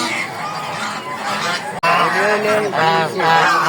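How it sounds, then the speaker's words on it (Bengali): Geese honk loudly and repeatedly at a poultry market, with ducks kept nearby; the close, harsh calls come in overlapping bursts with a brief sharp break partway through. "এখানে আমরা দেখছিলাম অনেকগুলো রাজহাঁস আছে এবং চীনা হাঁস আছে"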